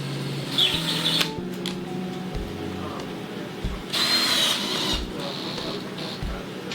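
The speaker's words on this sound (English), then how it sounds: "With the drill, I can change the torque on it a little easier." A power drill drives screws in short bursts with a high whine, with knocking and tool clatter in between, during basement renovation work.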